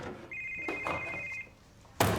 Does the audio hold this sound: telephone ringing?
yes